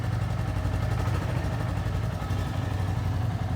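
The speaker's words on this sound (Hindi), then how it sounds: "बाइक को स्टार्ट कर लेते हैं, इंजन साउंड सुन लेते हैं, एग्जॉस्ट नोट सुन लेते हैं।" A 350cc motorcycle idles in good condition, a loud, steady, thumping exhaust drone holding evenly throughout with no other sounds.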